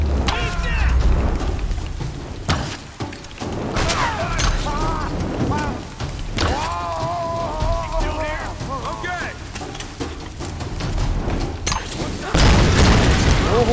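Grenade launcher bombs go off in Tomb Raider, several loud booms bursting over a dense, rumbling game soundscape while voices talk throughout.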